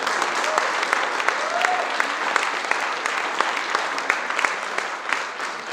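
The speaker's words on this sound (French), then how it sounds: "Une belle applaudissement, s'il vous plaît." Audience applause at a Black History Month 2024 event, a steady sustained round of clapping from a crowd filling the space, dense and even throughout, with no speech over it.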